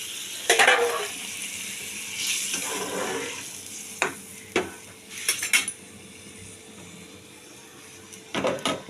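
Water added little by little to masala frying in a pan for raw banana kofta curry, bringing bursts of sizzling and spluttering, with scattered clinks of utensils on the pan and quieter stretches between.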